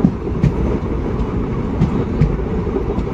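An Azimganj–Kasimbazar MEMU passenger train runs steadily, a loud continuous rumble with rhythmic clickety-clack of wheels over rail joints throughout, no voices.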